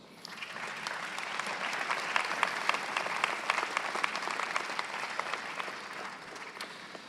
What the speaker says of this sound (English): Graduates, give them an applause.